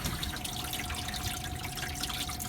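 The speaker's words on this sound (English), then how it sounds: "The pump's running in the wash cycle." The water pump of a Manitowoc Indigo ice machine runs through its wash cycle with a steady motor hum under a continuous splashing, dripping wash of water, close by and without any talk.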